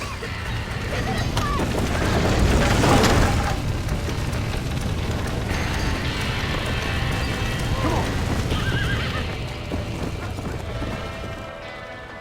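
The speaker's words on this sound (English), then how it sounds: "Now let's save the horses!" Horses whinnying and hooves clattering amid a rumbling, chaotic Red Dead Redemption game soundscape, with voices and crackling noise mixed in.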